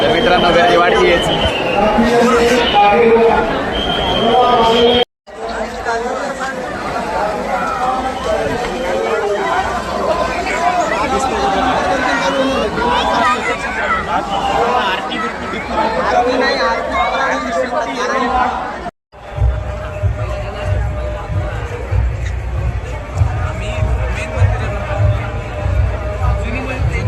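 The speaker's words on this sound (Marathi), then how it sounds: "गर्दी वाढतीच" Dense crowd of devotees chattering at the Dagdusheth Halwai Ganpati temple, a steady loud babble of many voices that continues without letting up, with two brief cuts and a heavier, boomier crowd rumble in the final stretch.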